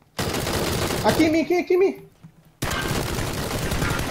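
Bursts of automatic gunfire crackle in PUBG Battlegrounds as a dense, noisy barrage that cuts out abruptly and then resumes, with someone shouting briefly during the lull.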